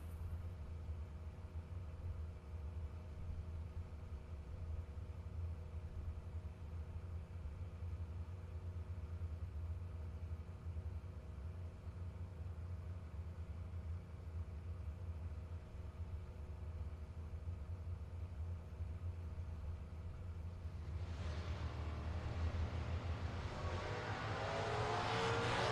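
Drag racing cars, a Mustang and a wheelstanding Vega wagon, at SGMP: a low, steady engine rumble in the distance for most of the run, then a louder roaring surge near the end as the cars launch.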